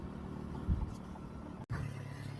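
A motorcycle rides along a village road on a cold day near Wagah, giving a steady low engine rumble with a brief dropout partway through, no voices heard.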